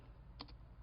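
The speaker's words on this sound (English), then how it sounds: "I'm going to go ahead and type in the title of this page." Computer keyboard typing, a couple of faint quick key clicks close together, then one more, over a quiet steady hum.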